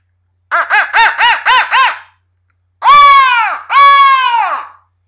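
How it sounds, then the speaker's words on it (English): A crow locator call is blown for turkey hunting, first as a fast run of five short, sharp caws, then as two long, loud, drawn-out caws, close and clear against silence. "If you kind of give a couple blows on this crow call, the gobblers might gobble at it."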